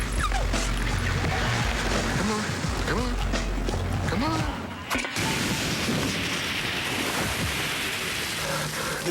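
A dog in a TV commercial yips, barks and whimpers in short bursts, with voices talking over it and a wash like surf in the background.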